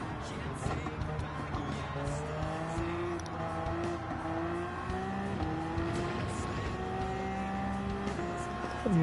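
Race cars lap the Spa circuit in a racing video game, engines whining steadily at high revs with pitch sweeps as cars are passed, a continuous mid-level roar with no talk.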